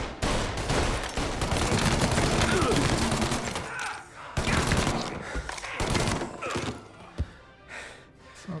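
Repeated gunfire bursts from the video game Mafia Definitive Edition, including shotgun blasts, loud and dense over steady game noise, with a brief lull near the middle and a sharp single thump near the end; voices are faintly audible.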